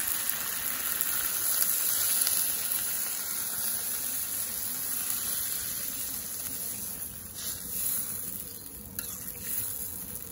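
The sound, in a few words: pouring broth into frying chicken curry meat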